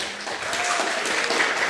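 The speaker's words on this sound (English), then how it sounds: "please give applause to Mrs." Conference audience at a healthcare event applauding: a dense, steady wash of many hands clapping, moderately loud and continuous with no voices over it.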